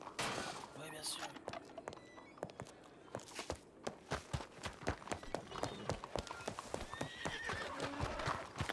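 Horses gallop in a video game, with a rapid clatter of hooves and a whinny, close and busy, as people talk over it.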